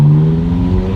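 McLaren 570 supercar engine revving steadily up close, a loud deep throaty drone with strong low harmonics holding for about a second, with no talk.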